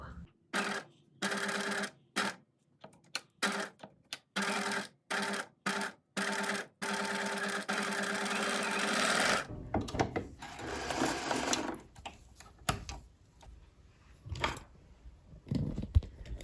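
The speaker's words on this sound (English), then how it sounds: "I'm just about to make a big hefty noise on the sewing machine" A sewing machine whirs in quick stop-start bursts, then runs in one long continuous stretch before fading into quieter rustling and handling noises.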